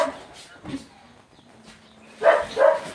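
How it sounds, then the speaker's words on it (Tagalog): A dog gives two sharp, loud barks near the end, after a stretch of quieter sounds and faint background noise. "Naingay po kasi yung aso namin."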